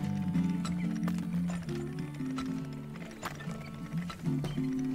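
A horse in the oil-drilling video game Turmoil, with clip-clop hooves and a possible whinny over steady, looping game music for several seconds, no talk.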